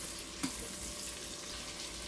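Garlic and onions fry in a pan while being stirred, giving a continuous close sizzle with a brief scrape or clink near the start.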